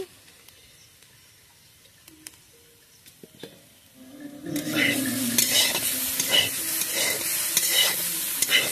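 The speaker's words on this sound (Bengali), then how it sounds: "আমি ভেজে নেব, দেখতে থাকো। আমি এর সঙ্গে গোটা 5 লঙ্কা দিয়ে দিলাম" Pumpkin peel and potatoes fry in a pan with whole green chillies and chopped onion. A few quiet clinks come first, then a loud, steady sizzle starts midway and holds, broken by scraping stirs.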